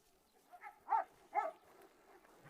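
A Doberman or Cane Corso named Carlos gives a few short, quiet vocal sounds, about three close grunting yelps in quick succession against near silence.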